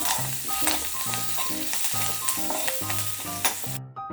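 Mustard seeds, cumin, chana dal, onion, curry leaves and green chilies sizzle steadily in hot oil for a tempering, a continuous close frying hiss with stirring under soft background music.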